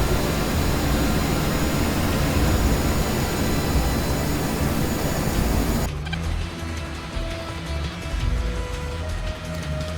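Aircraft engines in a flight combat game: a loud, broad jet roar holds steady, then abruptly drops to a lower, thinner drone with a faint whine for the remaining seconds.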